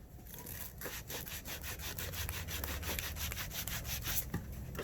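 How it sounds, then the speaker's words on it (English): Copper pipe being sanded by hand with sand cloth before soldering, a quiet close rhythmic rasping scrub of quick back-and-forth strokes, steady and continuous. "Get your sand cloth and sand the outer edge where you're going to be soldering."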